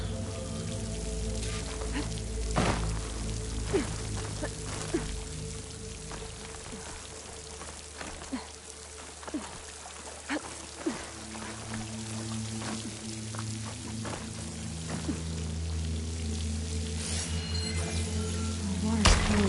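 Water pouring down in Horizon Forbidden West, a continuous loud rushing splash near a wall by a waterfall, steady throughout with scattered thuds and drips.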